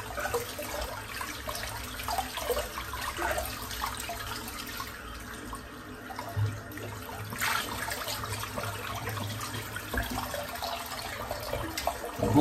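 Running water from a tap rinsing clipped hair out of a head-shaving razor, a steady continuous splash and flow close by, with no one speaking.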